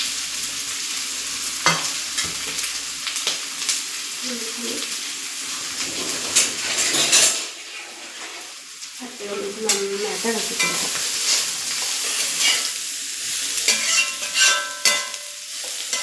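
Cabbage stirred and fried in a pan, with a steady sizzle broken by repeated scraping and clattering of the spoon, and someone speaking briefly over it.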